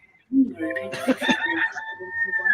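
A rooster crows loudly and close by, its long drawn-out call holding steady through the moment, with a few clucks from chickens mixed in and light background noise.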